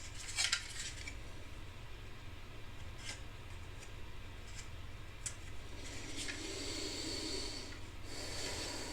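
Cutting a plastic part from a Bruder Cat compactor model kit, a few soft snips and clicks close by over faint background hiss, with one louder cluster near the start and quieter cuts later.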